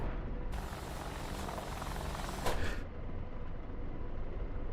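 An AH-64 Apache helicopter in the DCS flight simulator drones steadily, its rotor and engine noise swelling into a brighter whine mid-way and then settling back to a lower, duller hum.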